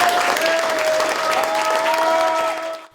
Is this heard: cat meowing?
no